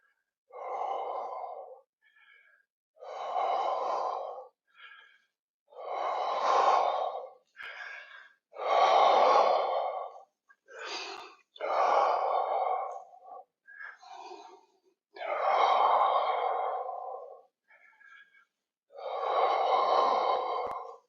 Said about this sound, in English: Breathing deliberately.